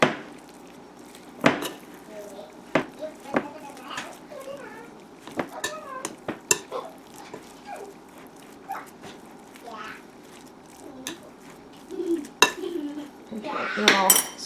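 A metal spoon stirs Kalamata olives into sourdough starter in a bowl, giving sharp scattered clinks and scrapes against the dish with soft squelching between, while a person talks quietly at times.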